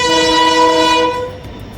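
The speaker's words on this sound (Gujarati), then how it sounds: "તો ભાઈ ટ્રેન આવી ગઈ છે." A train arriving in Banaskantha, its horn sounding one loud, sustained blast for about a second, then cutting off and leaving a low rumble of the approaching cars.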